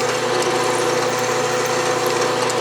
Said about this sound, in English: Now I'm drilling so deep that I think I'm going to go beyond the flutes of the drill bit